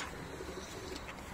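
Pigeons coo softly in a loft of breeding birds, the parents of prize-winning racing pigeons, a low continuous murmur of calls against steady background noise with no talking.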